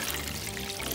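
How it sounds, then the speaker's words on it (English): Salt water poured into a container for a gummy bunny osmosis experiment, a steady close trickling splash filling the whole moment. "Now, time to pour in my salt water."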